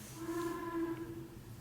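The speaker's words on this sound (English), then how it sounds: "It was like a weird steam whistle sound." A weird steam-whistle-like tone drifts up from deliveries downstairs, a steady faint pitched whistle holding for under two seconds at a distance, with no talking over it.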